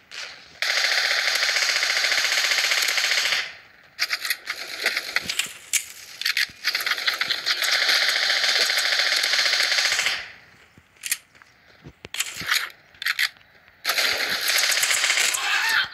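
Rapid automatic gunfire from a shooting video game, firing in long, loud sustained bursts broken by short pauses and a few scattered single shots, with no talk over it.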